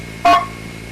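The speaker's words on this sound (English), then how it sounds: "The digit 2 on a Blue Box sounds like this." Brief two-tone Blue Box signal for digit 2, combining 700 and 1100 Hz, sounding once as a crisp beep of under a quarter second over a low background hum.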